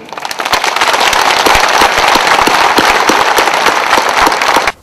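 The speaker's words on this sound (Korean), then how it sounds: "가슴 벅찬 날 서로를 격려하고 희망찬 경산의 미래를 위해 우리 모두를 위해 큰 박수를 보냅시다" Dense, loud applause from an audience at a city celebration ceremony in Gyeongsan, a steady crackling wash of many hands that cuts off abruptly at the end.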